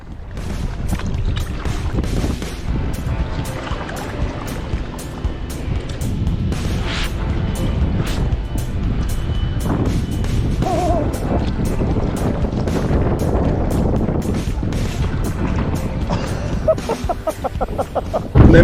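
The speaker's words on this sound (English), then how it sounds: "the wind really got us" Steady wind buffeting the water and microphone while paddling a kayak, a continuous loud rushing roar with brief gusts and splashy paddle strokes throughout, no talking.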